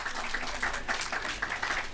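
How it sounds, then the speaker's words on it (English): Audience applause at a World Bee Day celebration, a steady wash of many hands clapping at moderate level that continues through the whole stretch. "Please give her another round of applause."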